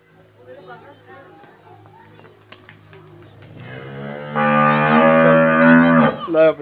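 A Nili-Ravi buffalo or bull on a Pakistani farm lets out a long, loud, rising moo that swells and holds near the end, after quieter murmurs and low background talk.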